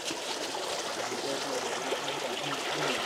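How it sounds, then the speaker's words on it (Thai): Strong water gushes from a pipe fed by a mountain stream in a village in India, making a steady, even rushing and splashing that holds at a moderate level with no voices. "มันเป็นท่อที่ไหลมาจากข้างบนอ่ะแล้วน้ำแรงด้วยนะ"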